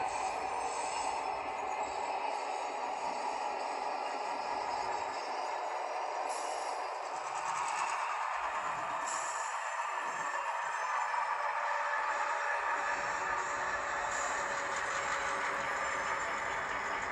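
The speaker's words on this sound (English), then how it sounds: "ESU sound files recorded from different locomotives" A model railroad ESU sound decoder plays a steady diesel locomotive engine sound, droning continuously with a low rumbling hum, idling at a constant level with faint rattles over it.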